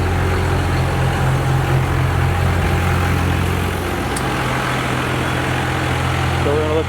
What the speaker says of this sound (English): We're gonna let the turbo cool down real quick, guys.